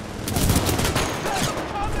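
Sustained supporting gunfire in the sci-fi shooter Titanfall 2, dense overlapping shots in a rapid fusillade that stays loud and close throughout, with faint voices mixed in.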